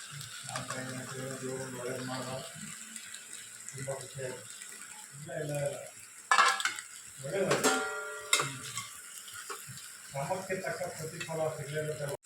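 Chicken curry masala with tomato being stirred in a pan, with scraping and clinking of a utensil against the pan under low sizzling, a few louder scrapes mid-clip and a faint voice in the background.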